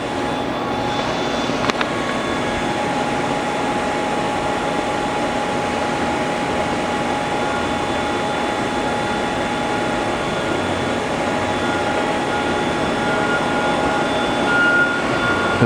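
The rotary axis of a Doosan 4-axis vertical machining center runs with a steady, even mechanical hum and thin whining tones, continuous and close, after a brief click near the start.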